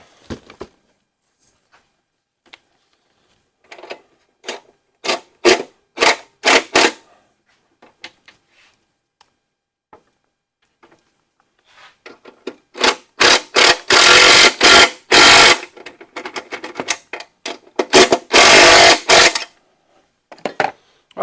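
A seat is bolted to the frame of a Honda CT70K0 motorcycle: scattered metallic clicks and rattles come first, then denser, louder bursts of ratcheting and clanking close by, with no talking.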